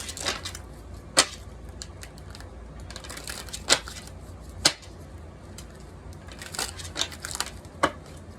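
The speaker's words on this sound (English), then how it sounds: "These are about the only cards that I can shuffle that good" A deck of smooth-sliding playing cards shuffled in quick riffles and bridges, with bursts of crisp flapping and sharp snaps repeating across the stretch, close and fairly quiet.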